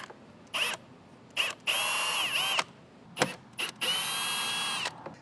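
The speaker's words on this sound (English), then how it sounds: "Pop your glove box open, and on the right and left sides, down along the side and towards the bottom, are 2 more T20s that you're going to need to remove" Power screwdriver backing out T20 Torx screws from the glove box of a BMW F10 5 Series, in several short whirring bursts with two longer runs, close and loud against a quiet car interior.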